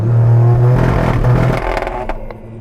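A 600hp Toyota GR Yaris engine revs hard and loud on launch control near the listener, holding a steady high-rev drone before dropping off with some clatter.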